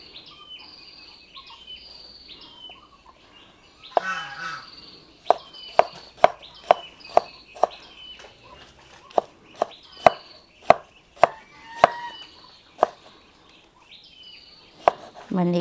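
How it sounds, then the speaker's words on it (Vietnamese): A knife chops tomatoes on a cutting board in a home kitchen, a run of sharp, close, regular knocks following a quieter start, with bird chirps and insect calls faint in the background. "giờ mình sẽ sắc cà chua luôn nha"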